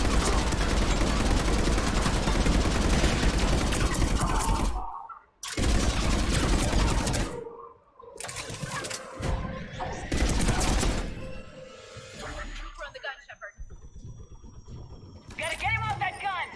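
Loud, sustained bursts of gunfire in the sci-fi shooter Mass Effect 3 come in long volleys separated by short silent gaps, with shouted voices and battle noise in between.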